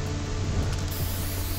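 Spray paint emote from the Fortnite Season 6 battle pass, a steady hissing aerosol spray lasting under two seconds, close and fairly loud with no talk over it.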